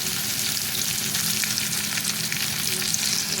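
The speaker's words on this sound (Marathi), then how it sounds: "आता आपण याच्यामध्ये कांदा टाकूया आपल्याला गॅस अजिबात कमी नाही करायचंय फास्ट पाच गॅसवरच करायचं आहे" Onion fries in a little oil over a high flame for Schezwan and Hakka noodles, a loud, close, continuous hiss and crackle with faint stirring underneath.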